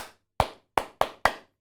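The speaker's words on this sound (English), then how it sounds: "in primary schools, sometimes they have a hand clap that goes like this" Five sharp hand claps of a primary-school classroom attention signal, a single clap followed after a pause by a quicker group of four, crisp and close with silence between.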